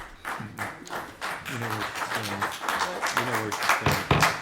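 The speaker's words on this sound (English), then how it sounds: "Let's hold the applause" Audience applause at a town planning board meeting, a dense patter of claps from a modest crowd in a hall, with voices talking over it.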